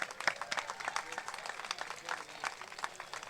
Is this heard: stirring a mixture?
no